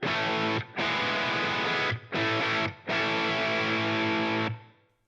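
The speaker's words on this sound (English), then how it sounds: "this is the Benzin Mega, which I think is modeled after a Diezel amp, and it's kind of a neat distortion" An electric guitar plays through the Benzin Mega, a Diezel-style distortion amp model on an HX Stomp, producing loud, thick sustained chords in a few bursts separated by short gaps, ending with a fading ring-out.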